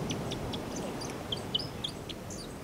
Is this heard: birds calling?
yes